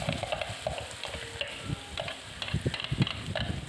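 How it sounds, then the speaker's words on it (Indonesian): Steady sizzling and frying of chili sambal in a hot wok, close by, with repeated scraping and stirring strokes over it and no voices. "Selanjutnya, mari kita tumis sambalnya nih."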